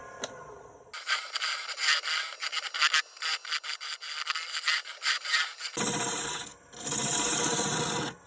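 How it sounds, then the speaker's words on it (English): A small lathe chisel scrapes and cuts inside a turned Big Leaf Maple bowl, giving a close, loud, gritty rasping that comes in uneven bursts and then settles into a steadier grinding toward the end. "Now I can come in with the smaller, my lathe chisels here, and start working that down inside of the bowl."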